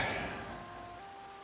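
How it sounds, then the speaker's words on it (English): Steady rain falls in Minecraft, a dense even hiss of drops with a faint tonal hum underneath, fairly close and unbroken with no voices. "Oh, now we've got rain."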